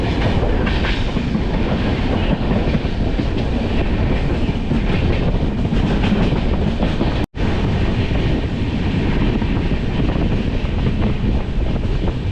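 Kanchan Kanya Express passing through Gulma station, heard from aboard as a steady loud rumble with clickety-clack wheel rhythm and wind buffeting the microphone throughout, no voices.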